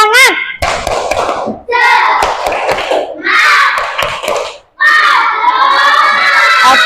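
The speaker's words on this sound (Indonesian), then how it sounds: "Yuk coba kita tepuk semangat." A class of young children joins a teacher in a rhythmic clapping chant, bursts of sharp hand claps alternating with loud shouted children's voices in short phrases, close by in a room.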